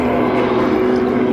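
A Bristol Blenheim propeller aircraft flies at the Duxford summer air show, its engines droning as a loud, steady, continuous hum with no break and no voices.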